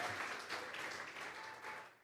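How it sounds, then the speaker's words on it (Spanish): A church congregation at a Thursday Bible doctrine service claps as an offering of applause to God, a soft, somewhat distant patter of hands lasting about two seconds. "Vamos a regalarle ofrenda de palmas al Dios de la gloria"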